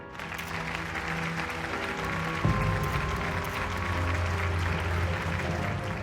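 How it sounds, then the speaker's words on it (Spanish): An audience applauds steadily at a fashion collection launch, the clapping dense and continuous throughout, with a brief thump partway through and no voices over it. "para el que pido un aplauso"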